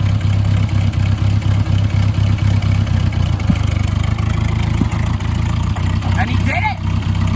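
A tractor engine chugs steadily at a low, throaty pitch while reversing, running close by with little change in speed.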